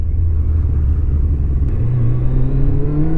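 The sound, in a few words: Kawasaki ZZR 1100 motorcycle engine revving with throttle opened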